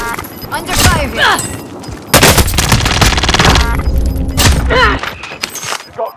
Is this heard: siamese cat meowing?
no